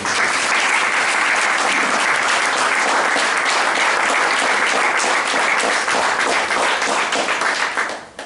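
Dense, loud applause from a large audience at a members' day event during a festival week, sustained evenly throughout before stopping abruptly at the end.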